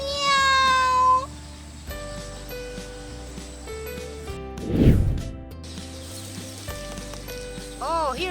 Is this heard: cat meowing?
yes